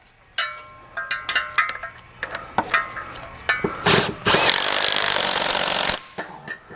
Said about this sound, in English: Even enough room to be able to get an impact in there. And tighten up our mount bolts.